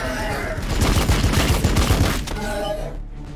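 Gunfire in the Warhammer 40K Battlesector video game, a dense, loud volley of rapid shots that crackles for about two seconds, peaks, then fades into a rumbling decay.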